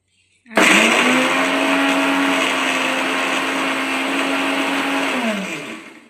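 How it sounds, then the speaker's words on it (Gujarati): A kitchen mixer grinder making pani puri filling kicks on suddenly and whirs loud and steady for about five seconds before spinning down, with a voice faintly under the motor. "મિક્સરને થોડી વાર બંધ કરવી ને એટલે મિક્સર સારું રહે"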